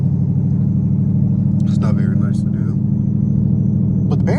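A loud GT car engine rumbles steadily and close at night in the city, a constant low drone with brief chirps and clatters on top.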